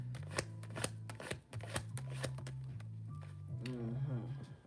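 Tarot cards shuffled by hand in rapid bursts of crisp riffling and flicking, close and fairly loud, with soft low background hum and a brief voice-like murmur near the end.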